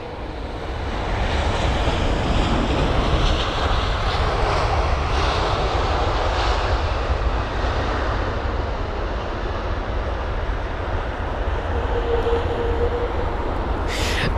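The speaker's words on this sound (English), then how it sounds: "I'll continue on after this Virgin Atlantic A350 1000's landing." A Virgin Atlantic Airbus A350-1000 lands at London Heathrow, its engine roar loud and steady throughout with no pauses, and a brief higher whine appears near the end.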